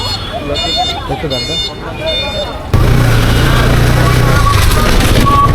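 A motorcycle's alarm sounds as the bike is locked, a loud electronic tone that starts suddenly midway and holds steady over busy background noise, with voices heard earlier.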